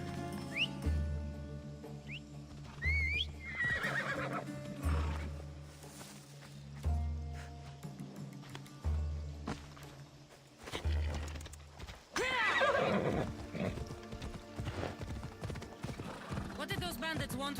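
A horse in the video game Assassin's Creed Odyssey, with regular clip-clopping hooves pulsing in bursts, a neigh partway through, and game music and voices talking over it.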